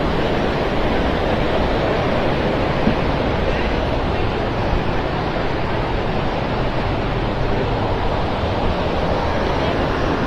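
River rapids rushing at a salmon fish ladder, a steady loud broadband roar of churning water with no break across the whole stretch.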